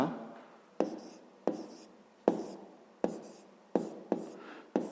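Chalk or pen scratches during a fifth-grade math lesson, with a series of short, crisp taps and strokes repeating about every second, faint and close with no speech over them.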